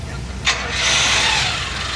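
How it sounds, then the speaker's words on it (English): A hot-wired Rolls Royce engine cranks and catches with a short burst, then settles into a steady running rumble close by, with faint voices around it. "He's hot wiring the engine."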